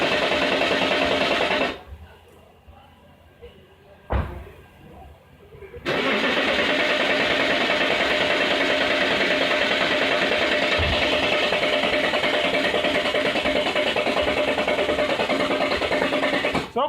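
A 2003 Range Rover TD6 with a hard-start fault cranks loudly. The churning drone breaks off for a few seconds, then resumes and grinds on steadily and close without catching.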